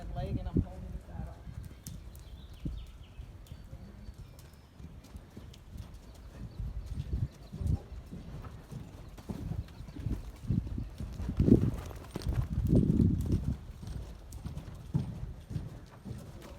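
A gaited horse's hooves beat in a rhythmic clip-clop while cantering under a rider, fairly faint and steady, with occasional voices and a brief louder thump partway through.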